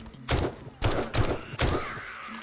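Gunfire in the zombie survival game 7 Days To Die: four or five close, punchy shots in an uneven burst, each a broad blast with a short tail, set against a low steady background hum and no talk.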